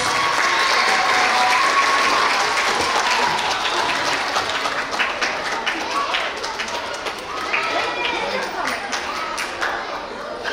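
A school assembly audience of children and adults applauds first graders at a Student of the Month event, a steady, loud wash of clapping lasting throughout with crowd chatter mixed in.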